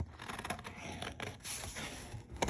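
Scissors snip through paper while a paper doll is cut out by hand, giving a run of close, crisp cuts and rustles with a sharper snip near the end.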